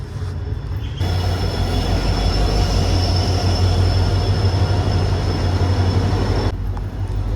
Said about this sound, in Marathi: सो आली आहे गाडी आपली, दाखवतो तुम्हाला.